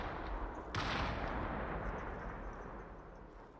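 Gunfire in the Population: ONE battle royale finals: one sharp, loud shot rings out, then a long rumbling decay follows over steady background noise.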